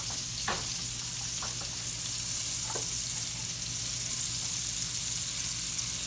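A hamburger steak browns in a skillet with a loud, steady sizzle, and a few brief scraping or popping accents rise over the constant frying.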